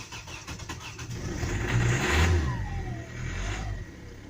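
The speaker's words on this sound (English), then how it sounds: "Car still has got problem of starting up." A car with a starting problem cranks and catches, then its engine revs up loudly in a rising, uneven surge before dropping back to a rougher, quieter running note, with no voices.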